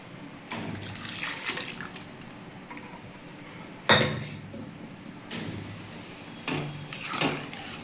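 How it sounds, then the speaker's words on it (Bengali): Running tap water splashes over a carrot being rinsed in a home kitchen while preparing Bengali moong dal with radish, a steady close stream broken by a few sharper splashes and clatters. "গাজরটা ধুয়ে জল দেবো আমি"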